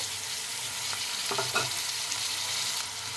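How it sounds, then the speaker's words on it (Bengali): Chopped pea pods being stirred into frying potatoes in a pan, a constant hissing sizzle with a few brief scraping stirs near the middle, close and uninterrupted by speech. "সব কটা মটরশুঁটির ছিলকা আমি দিয়ে দিয়েছি ভালো করে নাড়িয়ে নেব"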